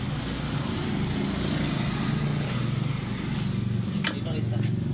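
A Honda Click 125 scooter with a check-engine light and temperature gauge fault runs at a steady, close idle, its engine droning evenly throughout.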